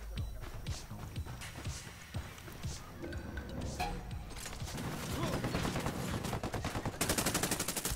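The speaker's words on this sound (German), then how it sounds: "Wir haben Schüsse gehört!" Rapid bursts of gunfire crackle through a busy, noisy scene in the video game Ghost Recon Wildlands, building into sustained automatic fire toward the end, with voices mixed in.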